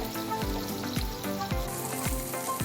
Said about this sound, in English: In an oiled hot pan, put the lamb on the meat side first.